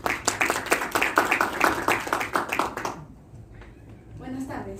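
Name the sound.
applause, clapping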